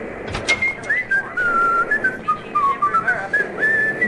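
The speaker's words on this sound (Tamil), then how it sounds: "விசில் சவுண்டை கேட்குது." Melodic human whistling in the Max Payne video game, a wandering tune of sustained and gliding notes carried steadily over a low background hum, fairly close and clear throughout.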